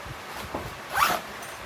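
Clothing zipper, compared with an Adidas zip, pulled once in a short rising zip, close and fairly loud, with quiet room noise around it and no talking.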